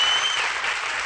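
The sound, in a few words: audience applause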